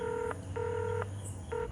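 Telephone keypad dialing tones, three short clean beeps at an even pace over a low background hum, close and moderately quiet.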